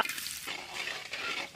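Chopped onions hit hot oil with star anise, cinnamon, cloves, cardamom and bay leaf for mutton biryani, giving a steady close sizzle and brief stirring.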